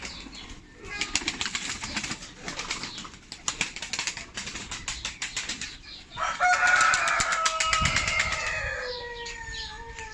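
Pigeons flutter down to eat scattered wheat, their wings flapping in quick rapid bursts nearby, then a louder rush of wingbeats and faint bird calls.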